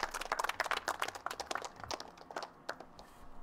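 Clapping for a rapper, a small group giving a short quick round of claps that thins out and fades toward the end, fairly faint and without talk over it.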